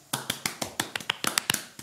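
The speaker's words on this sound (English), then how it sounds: "We're clapping because we just love to see happiness." A quick run of about a dozen crisp hand claps, brief and close, with a slightly uneven rhythm and no talking.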